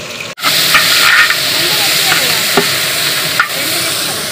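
Two ingredients stirred together in a frying pan, a loud, close sizzle and hiss with spatula scrapes and clicks against the pan recurring every second or so.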